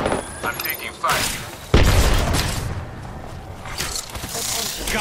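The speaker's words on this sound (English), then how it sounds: "I'm taking fire" Gunfire in the video game Apex Legends: short bursts of shots and a heavy boom, loud and close, while a player talks over the action.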